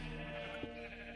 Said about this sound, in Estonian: Lambad, nice.